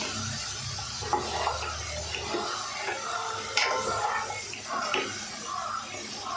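Vegetables and curry ingredients for a vegetable kara kuzhambu sautéed in a pan, with soft sizzling under repeated scraping and clinking stirs at close range, and no talk.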